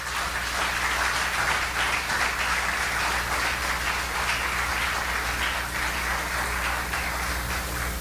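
A church congregation applauds in praise, a steady, dense wash of clapping that fills the room and holds at an even level throughout, with a low hum running underneath.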